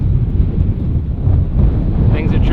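Strong wind buffets the microphone out on a grass-choked lake during fishing, a loud, steady low roar filling the clip.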